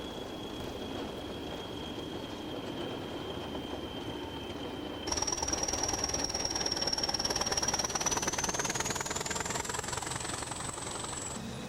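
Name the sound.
Hunslet-Barclay Class 20 diesel locomotives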